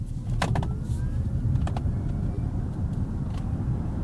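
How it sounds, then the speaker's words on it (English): A Kia EV6 electric car drives quietly on the road with its sound effects switched off, giving only a steady low rumble of tyres and road noise, with a few faint clicks and brief interior sounds, and no voices. "it's just a very quiet electric vehicle"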